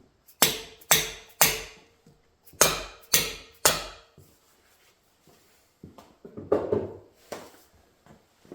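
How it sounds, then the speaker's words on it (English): A dead blow hammer strikes the valve keepers on an LS7 cylinder head, giving six sharp, evenly spaced blows in two groups of three. Quieter, irregular knocks and handling clatter follow. "I use a dead blow hammer to kind of unseat the valve keepers from the valve"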